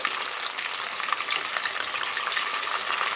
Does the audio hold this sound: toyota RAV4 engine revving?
no